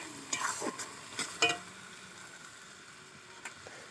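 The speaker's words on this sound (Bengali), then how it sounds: "এই মাংসটা দিয়ে মশলার সঙ্গে কষাবো" Chicken sautéed with spices in a pan for a potato chicken curry, a faint low sizzle with a few quick scraping stirs and a light clink of the spoon near the start, then quieter frying.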